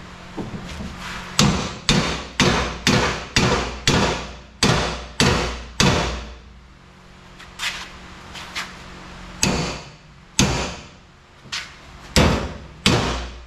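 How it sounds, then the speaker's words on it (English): Sharp hammer blows land in a quick series, pause, then resume as scattered single strikes. Close by, with no one talking. "Where's my hammer? Hammer time, right in front of me."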